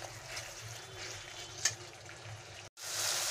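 Masala for egg korma frying in oil in a pan over a low flame, a steady soft sizzle with faint scraping, close and alone, briefly cut before the hiss resumes brighter.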